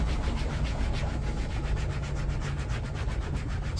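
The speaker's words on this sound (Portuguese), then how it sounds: "É esfregar o plástico." A microfiber cloth scrubs plastic car trim in a steady back-and-forth rub, close and continuous, with a soft rhythmic swishing throughout and no voices.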